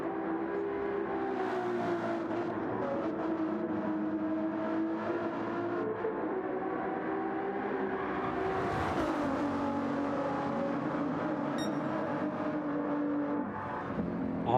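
Race cars lapping at the Le Mans World Endurance Championship round, sustained engine drone with shifting pitch as cars accelerate and pass, rising to a louder pass-by midway.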